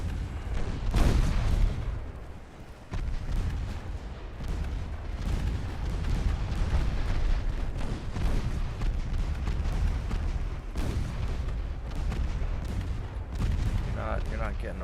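Naval guns fire in the warship battle game Ultimate Admiral Dreadnoughts, including a 10.4-inch gun, with repeated heavy booms and rolling blasts across the stretch while someone talks over much of it.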